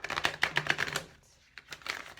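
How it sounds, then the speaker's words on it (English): Tarot cards being shuffled by hand in a quiet room, a quick run of crisp riffling flutters followed by a short pause and a few softer card sounds, close and fairly quiet. "Sometimes I shuffle the cards before I get on."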